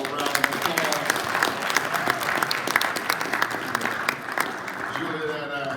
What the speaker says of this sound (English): Let's give Dr. Julianne Malveaux a round of applause